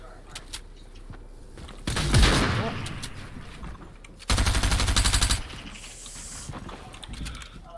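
Slug rounds fired in Fortnite, with two loud dense bursts of shots around two seconds and again near four and a half seconds, quieter game ambience between them and after.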